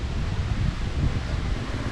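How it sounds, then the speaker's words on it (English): Strong outdoor wind buffeting the microphone, a steady low roaring rumble that fills the whole moment, close and loud with no pauses. "It's windy."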